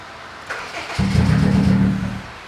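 An FD car engine cranks and then catches, settling into a loud, rough idle that holds steady close by.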